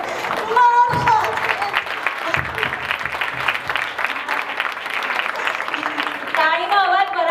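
Audience applause at a Jain community stage play, a dense burst of clapping, loud and close, with a performer's voice heard briefly at the start and again near the end.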